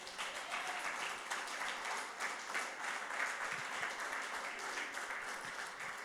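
A church congregation claps together in steady, dense applause filling a large room, continuous and fairly even from start to finish.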